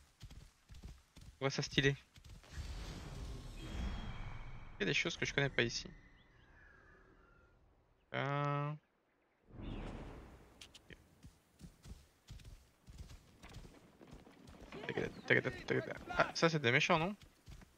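Horse hooves from riding in the video game Assassin's Creed Origins come as rhythmic clopping bursts that start and stop, beneath and between someone talking casually over the gameplay.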